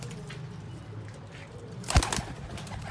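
A pair of Ferozpuri game pigeons coo softly over a low, steady background hum, with a brief louder flutter-like burst near the end.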